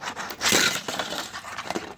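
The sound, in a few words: car crashing in a racing video game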